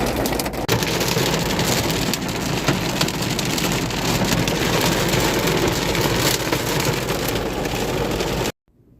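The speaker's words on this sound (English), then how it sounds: "it is starting to rain really fast, really hard" Heavy rain pours down steadily outdoors, a loud, dense and continuous wash of drops with no voices, ending abruptly near the close.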